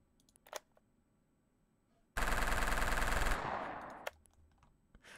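A sustained burst of rapid automatic Uzi fire from The Movies video game, loud and continuous for over a second before tapering off, with a few faint clicks and taps scattered before and after.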